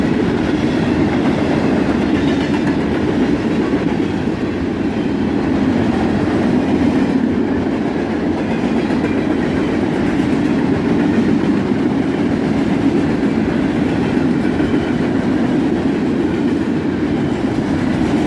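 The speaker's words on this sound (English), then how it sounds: "A 3-locomotive CSX covered hopper train, led by CSX 3049 and ES44 ACH." A three-locomotive CSX covered hopper train led by an ES44AH rolls southbound through Carlisle, a long, steady rumble of wheels and wagons with faint clickety-clack.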